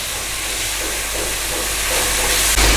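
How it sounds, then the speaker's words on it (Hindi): Vegetables and green chilies fry in a pan over a low-medium flame for chow mein, giving a loud, continuous sizzling hiss that grows slightly stronger toward the end. "हमने इन सबको 2 मिनट्स तक फ्राई करना है इस तरह लो मीडियम फ्लेम पर"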